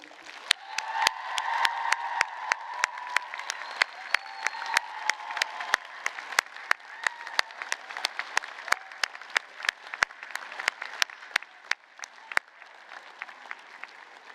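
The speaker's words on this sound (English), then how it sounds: "graduates, please applaud your support team." A large audience at a graduation ceremony applauds steadily for several seconds, dense clapping filling the space, then thinning slightly near the end.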